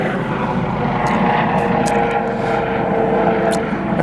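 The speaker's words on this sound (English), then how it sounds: "As our helicopter goes over top of us again." A helicopter passes over an outdoor campfire spot, its steady droning rotor and engine noise loud and sustained overhead, with faint brief clicks on top.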